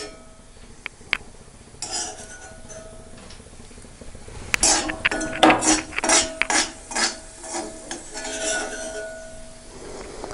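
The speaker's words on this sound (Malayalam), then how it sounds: "അതിനുശേഷം നമുക്കിത് നന്നായി ഇളക്കാം." Jackfruit seeds tossed with sautéed shallots and dried chili are stirred in a pan, giving scattered metallic scrapes and clinks that build into a denser run of near, moderately loud stirring knocks.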